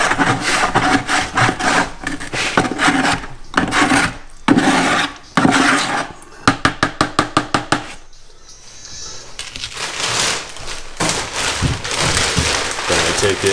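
Tile grout slurry being mixed and scraped out of a bucket during a kitchen backsplash install, giving loud, continuous rasping scrapes broken by short pauses and a quick run of rhythmic strokes.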